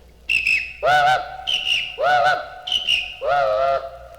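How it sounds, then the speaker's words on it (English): Two whistles trade off in turns, a high shrill blast answered by a lower, deeper steam-like whistle, repeating back and forth several times. "And for a minute, they just whistled back and forth."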